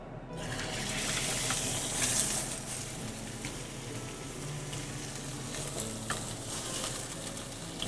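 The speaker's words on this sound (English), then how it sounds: "I'm gonna sear the bottom" Pork loin searing seam-side down in a hot pan for a stuffed pork loin, giving a steady, continuous sizzle and hiss throughout with no talking.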